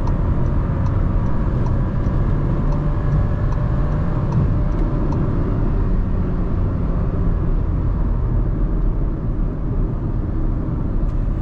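A Volkswagen Polo TSI engine roaring steadily under full-throttle acceleration, a constant loud rumble with road noise, heard from inside the car without speech.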